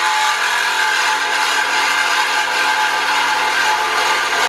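A saw cuts steadily through the exhaust resonator pipe on a Mustang GT during an MBRP X-pipe install, a loud, continuous metallic grinding and rasping that holds without pause for several seconds and then stops abruptly.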